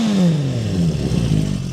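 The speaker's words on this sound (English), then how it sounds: "The engine's nice and smooth, as you can hear here." 1977 Honda CB400 Four motorcycle engine fitted with a Yoshimura racing exhaust, loud and close, with a rev that drops from a higher pitch and then settles into a smooth idle.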